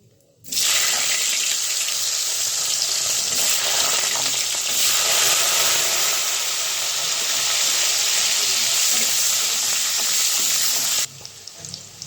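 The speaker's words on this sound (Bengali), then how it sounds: "আলুটা হালকা হালকা ভেজে নিয়েছি" Potatoes fry in hot oil seasoned with bay leaf and five-spice for a bean-seed curry, giving a loud, steady, close sizzle that starts abruptly and holds for about ten seconds before cutting off.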